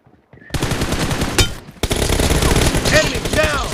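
Rapid automatic gunfire in PUBG Mobile team deathmatch: a short opening burst, a brief gap, then loud, sustained close-range shooting with dense overlapping shots.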